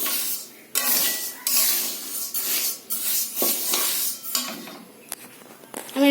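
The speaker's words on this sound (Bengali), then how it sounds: "ডালটা আমি লাল লাল করে ভেজে নেব।" One kilo of moong dal dry-roasted without oil in a pan, with repeated scraping and rattling strokes of a metal spatula stirring the grains, close up, in uneven bursts with short pauses.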